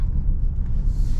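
The engine of a 2022 Nissan Pathfinder runs with a steady, low rumble heard from inside the car, no talk over it.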